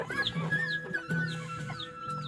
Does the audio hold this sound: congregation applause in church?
no